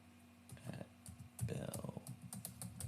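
Quiet clicking keystrokes on a computer keyboard as an email address is entered, in irregular bursts with short pauses, close by and fairly soft under faint background hum.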